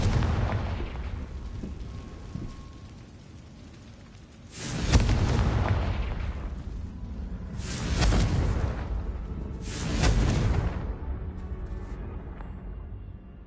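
Confringo fire-blast spell explosions in a Harry Potter video game: three heavy, booming blasts spaced a few seconds apart, each with a long rumbling tail, and no talking.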